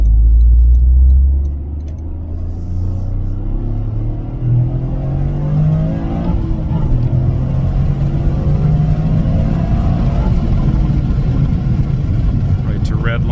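Toyota GR Corolla engine revs up through the range, a loud low drone climbing in pitch toward redline over several seconds and then holding a high, rough roar, with a brief throttle blip at the start.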